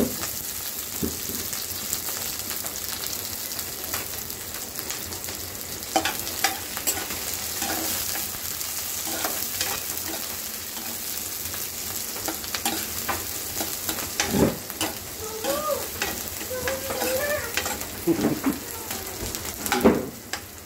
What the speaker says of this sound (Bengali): দেখেন ডুমুর সিদ্ধ করে নেওয়া হয়েছে, এখন ভাজি করার প্রসেস চলতেছে।